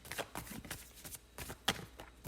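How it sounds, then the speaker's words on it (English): Tarot cards shuffled by hand close up, a series of quick papery riffles and slaps in an uneven rhythm, fairly quiet. "as always, I will shuffle live."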